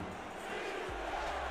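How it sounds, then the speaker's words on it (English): Crowd noise from a Houston home stadium in a football video game, fans on their feet chanting defense on a third-and-goal against New Orleans, a steady roar of massed voices with no clear chant rhythm. "Houston crowd on their feet, chanting defense."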